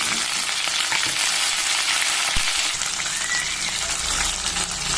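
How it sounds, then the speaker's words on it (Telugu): Drumstick, radish, carrot and other vegetables fry in a pan for sambar, a steady close sizzle with faint stirring and no talk. "అన్ని వెజిటేబుల్స్ వేసి బాగా వేయించుకోవాలి."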